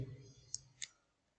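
Two sharp, faint clicks of computer keyboard keys being pressed, spaced about a quarter second apart, with a low murmur fading just before.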